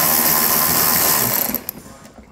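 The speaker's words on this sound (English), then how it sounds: "So I'm gonna go ahead and get my socket and remove that." A socket wrench or driver works an 8mm bolt off the trim of a 2012 BMW X5, a loud whirring mechanical buzz that ends with a few clicks and rattles.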